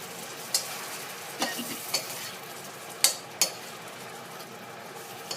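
Catfish stir-fried with fermented fish in a pan sizzles steadily while a utensil scrapes and clinks against the metal, giving a few sharp, irregular knocks over the constant frying hiss.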